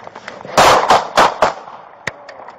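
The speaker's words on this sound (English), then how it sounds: "shots fired" Police gunfire at close range during a street standoff with a suspect holding a knife: a quick run of four heavy, booming shots, then one sharper single shot after a short pause, with faint scattered noise between.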